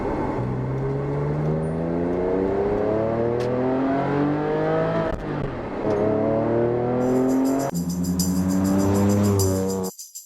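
A Porsche 911 engine revs and rises in pitch through repeated gear pulls, a deep throaty exhaust grumble, loud and close, ending abruptly.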